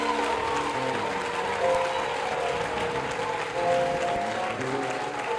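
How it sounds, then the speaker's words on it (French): A church congregation claps and cheers in a continuous, dense wash of applause that swells slightly and holds steady throughout, with no clear speech on top. "Acclame Jésus"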